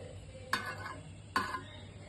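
Ghee hits a hot pan twice for tempering pongal, each pour starting with a soft metallic tap and followed by a brief sizzle, close and fairly quiet.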